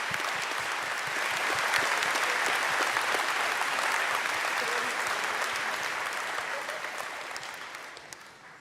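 An audience at a high school commencement applauds steadily, a dense, sustained wash of clapping from a large crowd that slowly fades toward the end.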